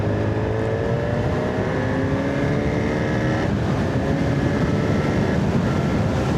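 A 2025 Honda Hornet 1000 motorcycle cruises in fifth gear at 40 mph, a steady engine drone mixed with loud wind rush throughout, with no talk.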